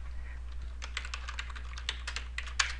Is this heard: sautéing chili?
no